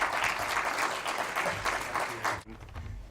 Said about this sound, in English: So now give a warm applause to Markus